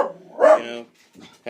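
A dog barks close by with a short sharp yelp, followed a moment later by a quieter second bark, heard alone in a brief indoor moment.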